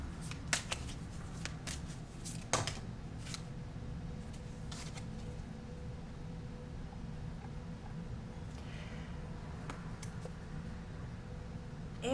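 Tarot cards being shuffled before a final card is drawn, faint papery riffles and soft clicks scattered over a quiet room hum, close and intimate.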